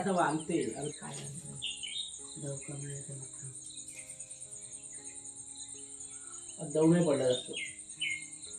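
Bulbul birds chirp and tweet in short bursts amid a steady high insect drone, with a person talking intermittently nearby.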